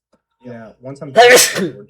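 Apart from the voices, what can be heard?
sneeze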